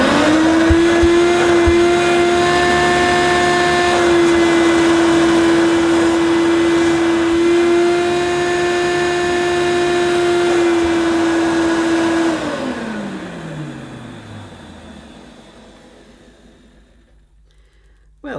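Hoover U2872 Turbopower Plus vacuum cleaner in tool mode, running loud with a steady high whine for about twelve seconds, then winding down as the motor switches off and fades out.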